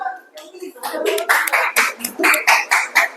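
A classroom group claps for a team of students, with a burst of children's voices at first, then a quick run of loud rhythmic claps up close.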